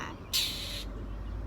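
A mockingbird gives a single harsh, buzzy aggressive squawk, about half a second long, close and fairly loud against a quiet outdoor background.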